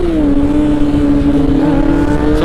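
Motorcycle riding along a road in the Philippines, heading toward Marilaque, its engine a steady, loud droning hum with a constant low tone and wind rush throughout, no voices.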